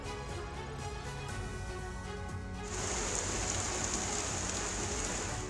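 Heavy rain in Nandurbar, Maharashtra, a dense, steady roar of drops hitting surfaces that grows louder and hissier partway through, with no voices.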